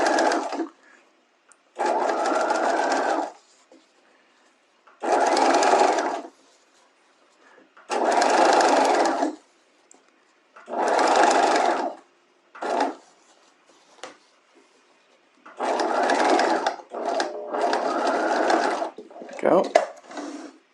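Domestic sewing machine stitching bias facing onto a bodice neckline, running in repeated bursts of one to two seconds with short stops between, close and fairly loud, with brief talk in the gaps.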